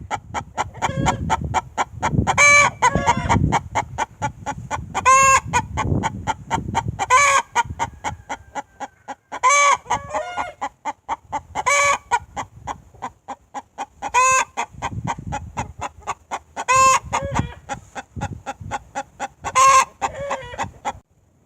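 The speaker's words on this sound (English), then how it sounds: "And there's the egg song." A hen cackles loudly and repeatedly in rhythmic bursts, a drawn-out egg song with short pauses between calls, close by with faint background clucking.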